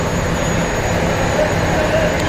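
A passenger launch's six-cylinder engine in a boxed engine room gives a loud, steady drone with a constant low rumble and broadband roar, running continuously without pause.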